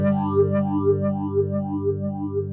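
Distorted guitar tones pulse through a BOSS PH-3 phaser pedal in rise mode, the sweep repeating in a steady upward-climbing whoosh roughly twice a second, played alone.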